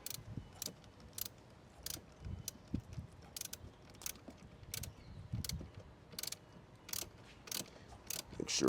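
A car battery's positive terminal clamp is screwed back into place, giving quiet, rhythmic ratcheting clicks in short uneven bursts with small pauses between turns.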